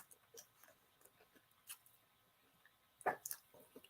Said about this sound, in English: I'm having some of my watermelon from last night.